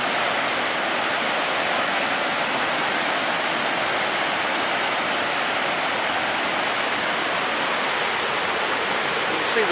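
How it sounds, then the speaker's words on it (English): Shoshone Falls pours heavily during a high-water season, producing a steady, dense roar of falling water that holds constant and loud throughout. "Currently there's a good flow over the falls."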